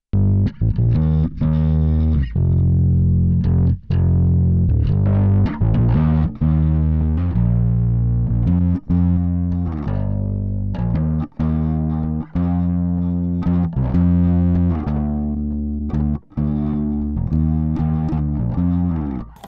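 Bass played through an Arturia DistOp Amp 21 distortion plugin gives a loud, thick, fuzzy tone with sustained notes and short gaps between phrases, with no talking.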